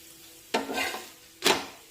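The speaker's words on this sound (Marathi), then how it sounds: "आता हा लाटलेला दुसरा पराठा सुद्धा मध्यम आचेवर दोन्ही बाजूने छानपैकी भाजून घेऊया" Cabbage paratha roasts on a hot griddle over medium heat, two short bursts of sizzling as it is pressed or turned, between them a quiet background hum.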